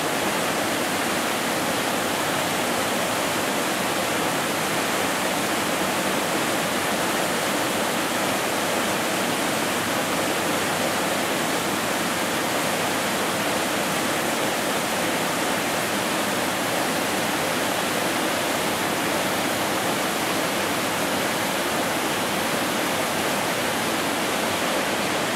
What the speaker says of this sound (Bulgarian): Това е може би малкото водопадче, което ви го показвам.